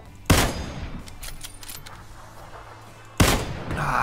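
Two sharp, loud gunshots ring out in the PUBG battle royale video game, one near the start and another about three seconds later, with quieter in-game ambience between them.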